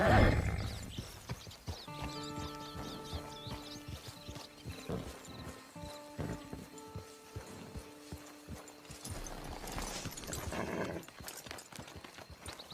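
A horse in the Western video game Red Dead Redemption whinnies loudly and clip-clops with steady hoof beats close by, with a dog also audible and an outdoor camp setting.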